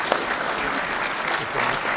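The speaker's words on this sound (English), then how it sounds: "Alan Stewart, please give him a round of applause." A crowd of supporters at a rally for Castle Toward applauds warmly, a steady close burst of clapping lasting a couple of seconds.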